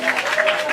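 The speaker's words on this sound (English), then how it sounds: "a round of applause for the Rhum chef." An audience applauds the Rhum chef at an evening dinner event, a brief burst of clapping close by with a faint murmur of crowd voices underneath.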